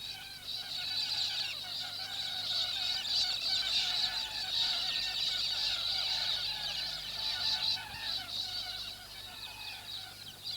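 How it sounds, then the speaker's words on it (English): A flock of galahs calls together at dusk after a day's foraging, a dense, continuous chorus of harsh screeches at moderate distance, fairly faint, with a voice speaking over parts of it. "The adult galahs are coming to the end of their day's foraging."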